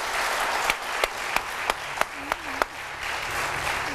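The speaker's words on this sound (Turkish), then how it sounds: "Burada bir alkış lazım ama ya." A studio audience at a televised word game show applauds in a steady wash of clapping, with a few sharper claps standing out and no talk.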